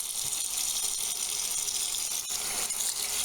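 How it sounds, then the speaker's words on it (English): Tap water runs steadily into a sink as it fills for hand-washing tights and leotards, a continuous close gushing hiss with no talk. "And then fill the sink up with some more water."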